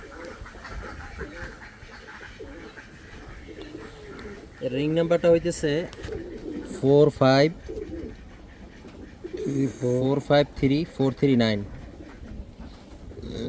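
Prize-winning racing pigeons in a loft coo in bursts of low, rolling calls, repeating several times while someone speaks nearby.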